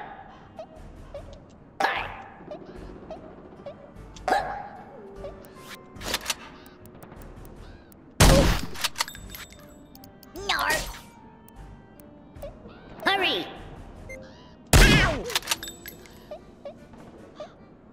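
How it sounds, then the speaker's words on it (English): Sharp, spaced-out shotgun blasts in the video game Worms W.M.D, with about five or six loud bangs several seconds apart among quieter game noises and someone talking. "I need time to do proper shotgun shots"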